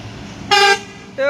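Musical telolet horn on a bus at a Muara Bungo bus terminal, a loud multi-tone blast lasting about a quarter second, then a second toot starting right at the end, over faint background chatter.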